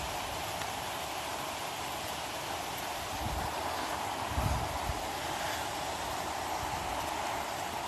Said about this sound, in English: It's downpouring over here.